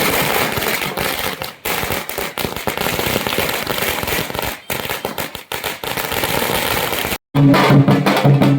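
Firecrackers burst in a dense, continuous crackling barrage at a welcome celebration in Manmad city, loud and close. The popping runs with brief gaps and ends in a heavier, rumbling volley.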